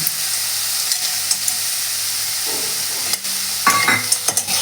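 Radish greens frying in a pan with fried lentil bori added, a steady close sizzle with stirring scrapes and a few clinks of utensil against the pan near the end.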